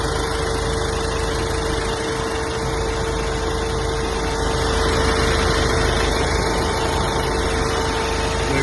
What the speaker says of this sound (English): I'll show you around the engine while it's running.